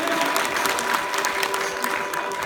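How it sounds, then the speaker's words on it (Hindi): Audience at a Maithili stage performance clapping continuously and loudly for the performers, a dense, steady burst of applause filling the whole moment. "तऽ भाई जोर से ताली बजा दिया एखन तक जे परफॉर्म केला"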